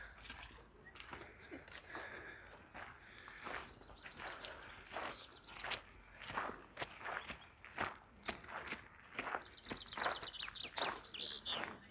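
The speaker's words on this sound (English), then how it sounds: "Well, listen to that bird." Birdsong chirps faintly in the distance, mostly near the end, over steady crunching footsteps on a path in a Japanese garden.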